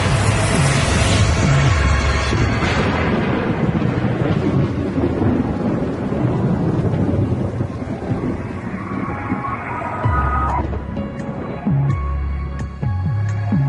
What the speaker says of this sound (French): En plein milieu d'un orage.